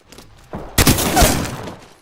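Burst of gunfire from the video game Apex Legends, a loud rapid volley erupting after a quieter lead-in and sustained for over a second before tapering off.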